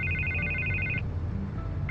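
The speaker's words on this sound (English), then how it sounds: "I can't get the phone to stop ringing" Telephone ringing in Batman: The Telltale Series, a close electronic trilling ring lasting about a second, a pause, then the ring starting again.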